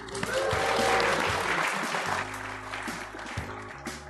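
A live podcast audience claps in a brief, moderately loud burst of applause that fades slightly toward the end.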